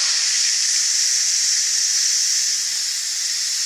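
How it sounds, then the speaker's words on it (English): A loud, steady hiss of steam escaping from a pot of cooking goulash, continuing without break and easing very slightly toward the end. "I'm going to let the steam out"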